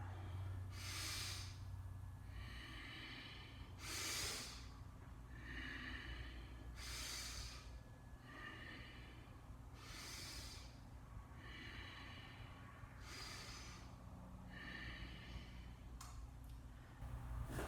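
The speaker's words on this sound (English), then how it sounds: "Inhale up, exhale down." Deep, regular breathing during a warm-up exercise pose: six or seven loud, hissy inhales and exhales spaced about every three seconds over a low steady hum.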